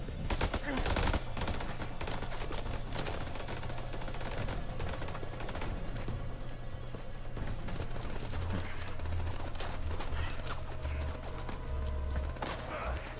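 Gunfire in the House of Ashes game rattles in a sustained barrage, rapid bursts of automatic fire and scattered shots crackling continuously under a battle din.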